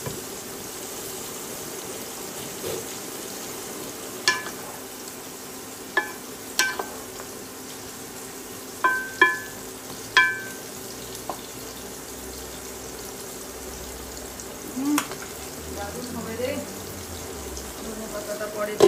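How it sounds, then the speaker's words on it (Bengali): Onions frying in a pan while a boal fish dish is cooked, a low steady sizzle under scattered sharp clinks and scrapes of a utensil against the pan. "এখন আমি এখানে একটু পেঁয়াজ ভাজতে দিই, পেঁয়াজটা ভাজা হোক, হালকা করে ভুনা করবো।"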